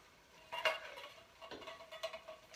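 Soft scraping and light clinks of spatulas working beans into a pot of turkey chili on a stove at medium-high heat, a few short bursts of stirring with quiet gaps between.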